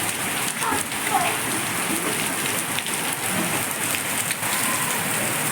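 Heavy summer rain pours down in a dense, steady roar of drops on surfaces, loud and constant throughout with no pauses.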